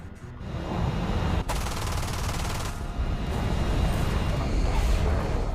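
Rapid bursts of machine gun fire from an F-8 Crusader fighter jet rattle continuously in a dense, loud fusillade, with a sharp crack early on and steady rapid fire throughout.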